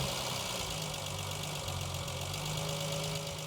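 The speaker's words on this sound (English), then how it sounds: "As soon as I let go of the throttle, she goes very low. She almost dies, and then she goes back." The engine of a 1968 Triumph TR250 idles low and rough, a faint, steady low-pitched chug with slight wavering as if close to stalling, heard with no talking.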